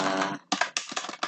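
Several computer keyboard keys pressed in quick succession, a fast burst of sharp clicks followed by a few separate close taps, with no talking.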